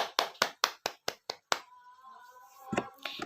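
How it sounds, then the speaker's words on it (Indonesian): A classroom group claps hands in a short run of about seven sharp, evenly spaced claps that then stop, leaving a faint voice afterward. "Beri tepuk tangan untuk Zahra."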